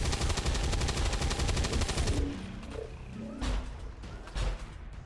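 A shredding cannon in the video game XCOM 2 fires a dense, roaring burst of rapid shots lasting about two seconds, then fades into rumbling impacts and scattered booms.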